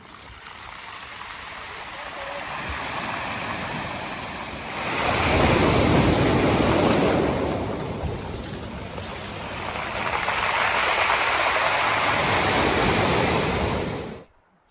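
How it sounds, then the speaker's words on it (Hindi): Rushing surf swells and recedes in two broad waves, hissing loudly up close, with a gritty wash of pebbles rolling back beneath the water on a beach at the Seven Sisters cliffs, England. "आवाज़ सुनिएगा पत्थरों की।"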